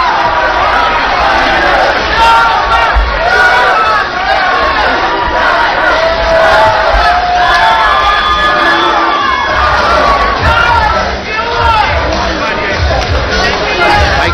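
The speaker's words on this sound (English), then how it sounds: "Fantastic crowd here at the joint of the Hard Rock Hotel and Casino" A large arena crowd at a mixed martial arts fight at the Hard Rock Hotel and Casino in Las Vegas roars and cheers continuously, loud and dense, with shouts rising throughout and an announcer's voice mixed in.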